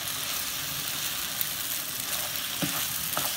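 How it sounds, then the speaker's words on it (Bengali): Chicken vegetable noodles fry in a pan with a dense, continuous sizzle that stays loud and close throughout, broken by a couple of faint scraping stirs near the end. "এবং 1-2 মিনিট ফ্রাই করে আমরা নামিয়ে নেব আমাদের নুডলসটা"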